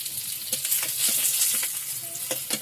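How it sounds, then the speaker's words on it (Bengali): Fish fries in oil in a home kitchen, giving a continuous loud sizzle and crackle broken by sharp spits and pops at an irregular pace, close by and with no talking. "মাছ ভাজা হয়ে গেল।"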